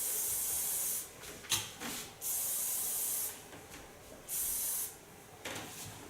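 Soft hairspray misted onto styled hair in several spaced bursts of close, crisp hissing, each lasting about a second with quiet gaps between.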